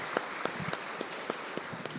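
Congregation at a Sunday Mass in a chapel in Luque claps for the Lord, a moderately quiet spread of applause with a few sharper individual claps standing out.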